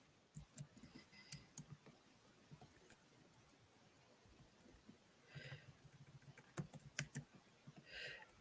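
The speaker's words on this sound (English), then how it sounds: "I'm like typing." Light typing on a computer keyboard, scattered soft key clicks in short irregular bursts, faint and close against a quiet room hum, with no speech.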